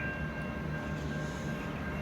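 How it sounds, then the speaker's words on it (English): Train rolling into a busy station platform, a steady low rumble with a faint high tonal whine, moderately distant and continuous. "Here comes the train."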